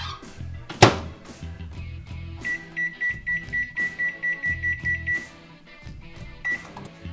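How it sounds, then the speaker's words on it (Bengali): A microwave oven is loaded and started while making spicy fried rice: a door thunks shut, then a quick run of regular beeps from button presses, followed by a low hum and a final beep. "এখন আমরা এটাকে মাইক্রো ওভেনে দিয়ে দেবো 5 থেকে 6 মিনিটের জন্য"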